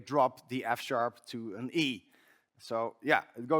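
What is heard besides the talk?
No everyday noises stand out.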